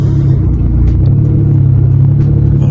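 Toyota Camry 2.4 engine revving through a stock pipe with the resonator deleted and catalytic converter still fitted, a loud, close, deep droning exhaust rumble held steady throughout.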